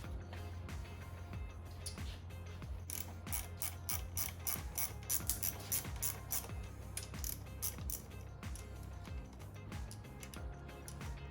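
A hand ratchet spins out engine bolts on a Lexus IS300 during a teardown, sounding as steady, close, fast clicking runs in repeated strokes that continue throughout, with no talking.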